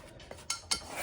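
Round side of a plastic bowl scraper working wet rustic Italian bread dough in a bowl, a few soft scraping strokes and light knocks against the bowl, close and fairly quiet.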